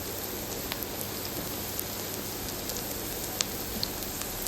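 Whole spices and cinnamon stick fry in hot oil for a country chicken curry, a steady close hiss with scattered tiny pops and crackles and no voices.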